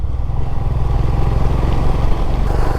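A Royal Enfield Himalayan motorcycle rides off-road on a monsoon trip toward Rani Jhari viewpoint, its single-cylinder engine thumping in a steady, close, continuous rhythm with faint clatter and no speech.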